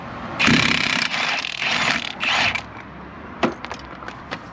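An impact gun removing a nut on a Citroen DS3, heard as loud close rattling bursts of about a second each, then a few sharp metallic clanks and knocks afterward, with no speech.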